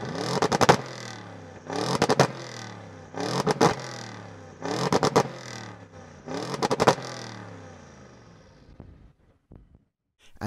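A four-wheel-drive Audi performance car revs hard in five sharp, evenly spaced bursts, each snarling up and dropping back, before the engine settles and cuts out, loud and close by.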